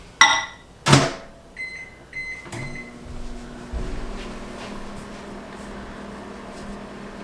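A microwave oven heats butter in a kitchen for stroopwafels: a door click and a few short beeps, then the steady hum of the running oven.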